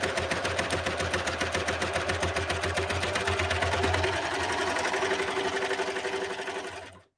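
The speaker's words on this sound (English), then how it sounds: "I'm just going to sew this down." A sewing machine stitches fabric in a fast, steady mechanical chatter that runs close and loud for several seconds, then stops abruptly.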